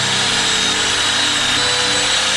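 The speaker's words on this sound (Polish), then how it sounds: "Pokażę Wam teraz, jak tnę gałąź na plastry." A tree branch being cut into wooden slices with a power tool gives a steady, loud whirring drone that holds evenly throughout, close up and with no voices.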